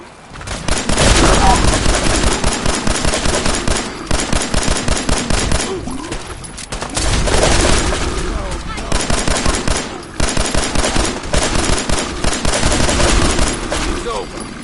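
Loud, sustained automatic gunfire and rattling volleys fill a firefight in the Fallout 4 Far Harbor video game, with bursts repeating almost continuously and only brief lulls between them.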